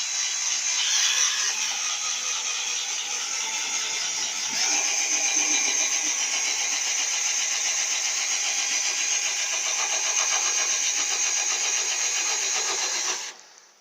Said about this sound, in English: So we put the drill on, put it in reverse, and out we come.